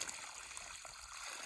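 Water runs steadily from a solar-pumped line fed by a creek: a faint, even hiss of flow with no pauses and no voices.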